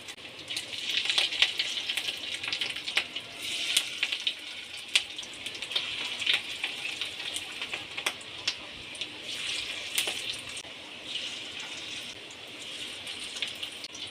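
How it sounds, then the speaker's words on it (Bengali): Small spoonfuls of fish roe fry in hot mustard oil, a moderately quiet, crackling sizzle broken by sharp spitting pops at irregular intervals. "এবার বীজগুলো আমি ছোট ছোট করে ভেজে নেব।"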